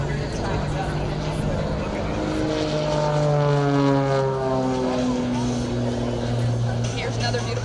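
A Pitts S2B propeller aerobatic biplane flies at a military air show, its engine droning steadily with a rising and falling pitch as it passes, while a commentator talks over the continuous noise.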